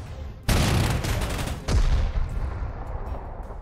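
Artillery fire from the World War II strategy game Panzer Corps 2, a sudden loud booming barrage that breaks in, with a second heavy blast partway through and then a rumbling volley of shots trailing on.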